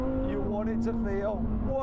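A naturally aspirated, rear-wheel-drive supercar engine drones steadily at close range, its pitch rising and falling slightly over a couple of seconds, with a voice audible over it.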